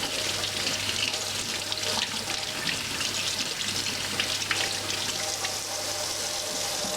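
Pickling cucumbers are rinsed under a running kitchen faucet, a steady, close splashing stream of water that continues unbroken throughout with faint handling noises.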